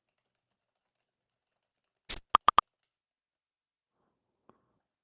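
A short, close burst of keyboard typing at a point-of-sale office desk: a quick smear of clicks followed by three crisp separate keystrokes in a quiet room, then one faint tap later.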